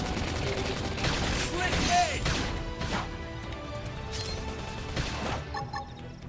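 Bursts of gunfire in the video game Xenoblade Chronicles X crack and rattle repeatedly amid crashes and impacts, busy and dense, with a voice talking excitedly over the action.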